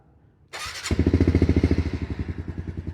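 A 2021 Honda CRF110 kids' dirt bike engine starts, a brief electric-starter whir cranking for a moment before the small engine catches and settles into a steady, close, loud chugging idle.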